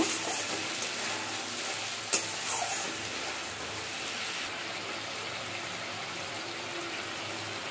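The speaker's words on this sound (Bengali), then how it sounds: "টমেটোটা একটু নাড়াচাড়া করে নেব।" Tomato frying in a pan for a Bengali fish curry: a continuous hiss of sizzling oil with one sharp utensil knock and softer stirring scrapes, close and steady, no talk.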